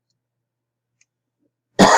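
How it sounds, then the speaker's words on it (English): A single sharp cough after a long silence, close and fairly loud, from a lecturer with a slight cough during a business class. "Excuse me, got the coughs a little bit."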